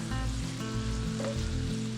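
Bacon and onions sizzling in a pan, cooking until the bacon crisps and the onions turn translucent: a dense, steady frying hiss under a low hum, close and even throughout the short stretch.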